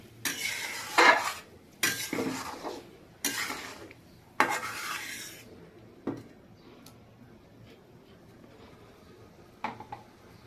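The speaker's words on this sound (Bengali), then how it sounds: "পরিমাণ মতো হলুদ দিয়ে দিলাম। এরপর একটু নেড়ে দিই।" A utensil stirs fish curry spices with turmeric in a pan, with several quick scraping strokes and clinks in the first few seconds, then only sparse, quieter taps against the pan.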